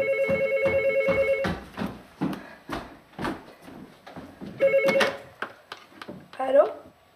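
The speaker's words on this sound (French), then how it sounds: "Il va pouvoir passer le dernier appel téléphonique." Telephone ringing on a call placed from a public phone booth near a fan's house in the 2000s, a steady repeating ring tone in two long bursts with talk and movement noises around it.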